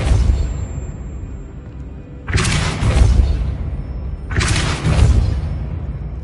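Depulso spell cast in the video game Hogwarts Legacy: two separate bursts, each a sharp whooshing blast with a low rumble that fades over about a second, set over a steady background hum.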